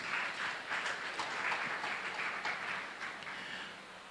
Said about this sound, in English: If you believe it, clap your hand for Jesus.